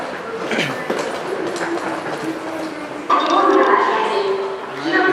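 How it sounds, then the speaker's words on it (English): Tokyo subway train pulling into a station, heard as a steady rail rumble with clattering and a brighter metallic rise partway through, mixed with station bustle and people talking. "This is my train."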